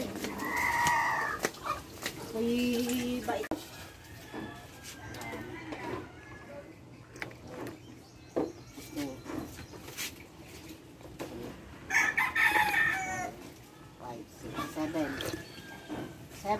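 Farmyard chickens clucking, with a rooster crowing at intervals, in a rural provincial home setting, heard under close conversational talk throughout.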